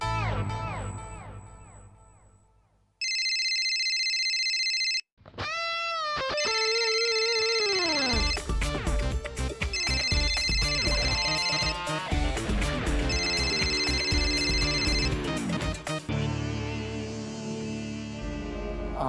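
A phone ringtone plays during an unanswered call in a Marathi TV serial scene, a looping electronic melody that rings out in several bursts with short pauses, alone and fairly clear.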